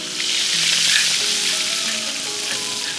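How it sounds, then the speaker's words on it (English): Pounded lemongrass, ginger, garlic and shallot hit hot oil in a wok, giving a loud, close, continuous bright sizzle that holds steady throughout with no talking. "Heat up your wok, add in some oil, and we're going in with the pounded ingredients."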